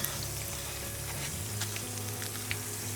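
Malasadas, Hawaiian-style donuts, frying in a pan of oil, a steady close sizzle and crackle with occasional small pops, continuous throughout.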